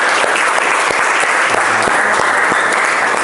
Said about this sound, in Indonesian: kasih tepuk tangan buat kelompok 1